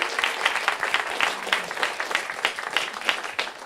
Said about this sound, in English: If we can please give him a round of applause to Lorenzo for coming.